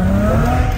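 A BMW E39 spins a wheel with a loud tire squeal and engine roar. The burst is brief, close and sustained, with a strained tonal whine over rough broadband noise.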